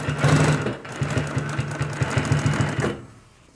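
An industrial high-lift compound feed walking foot sewing machine stitches through denim near a leg hem, a loud close run of rapid rhythmic thumping that slows and stops after about three seconds.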